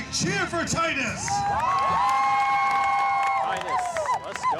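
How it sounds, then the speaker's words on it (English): At a knights' jousting event, a crowd shouts and whoops for the champion Titus, with long, rising yells layered over continuous loud cheering throughout. "That's right, cheer for Titus."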